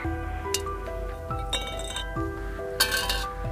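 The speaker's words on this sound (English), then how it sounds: "It's like an empty can dropping onto a steel surface. Very metallic." Aerogel, the lightest solid, is dropped several times onto a hard surface, giving bright metallic clinks and pings like an empty can with ringing tones that decay quickly.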